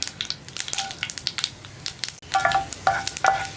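Rapid, irregular crackling and popping, like mustard seeds bursting in hot oil, sizzling steadily close by with a few brief clinks toward the end.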